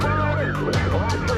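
Ambulance siren wailing at an emergency scene, loud and close, its pitch sweeping up and down in a continuous, rapidly repeating warble.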